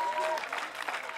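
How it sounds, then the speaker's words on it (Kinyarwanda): An audience claps for a man at a gathering, a short burst of dense, close applause with a voice speaking over it. "mwamukomeye amashyi y'umugabo"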